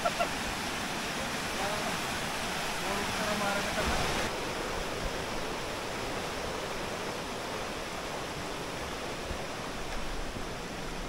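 At Aloha Falls in Carranglan, Nueva Ecija, a strong current of water rushes in a dense, constant roar that stays close and loud from start to finish.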